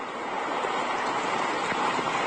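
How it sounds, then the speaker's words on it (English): Rushing floodwater after Hurricane Irene, heard with a microphone set right on the water's surface: a close, dense, steady roar of fast-moving water that holds constant for a couple of seconds with no voices. "So I want to give you guys an idea of just how hard this water is moving"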